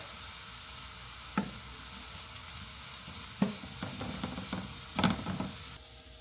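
Shrimp sizzle steadily in a hot pan, a constant frying hiss broken by a few clinks and scrapes as pieces are turned over.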